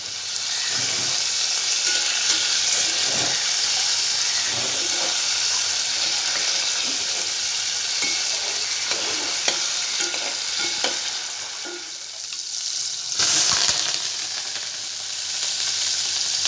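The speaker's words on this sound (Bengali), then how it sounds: "তো আমার যে তেলটা বেশি হিট হয়ে গেছিলো এই জন্য একটু ধোয়ার মতো দেখলেন আপনারা একটু জিরা দিয়ে দিলাম" Cumin seeds spluttering in overheated oil for tempering dal, a steady close sizzle with crackling pops and a brief stir, no talking.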